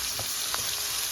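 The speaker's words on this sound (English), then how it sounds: "my onions are cooking" Onions with seasoned steak frying in a pan, a steady close hiss and sizzle with faint stirring scrapes and no talk.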